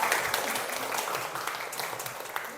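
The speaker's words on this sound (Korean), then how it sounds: "다시 한번 고생하신 김민경님께 박수 한번 부탁드리겠습니다." Quiet, steady applause from a small audience at a lecture in a Korean medicine cancer-treatment hospital, a soft patter of many hands that holds evenly and fades slightly toward the end.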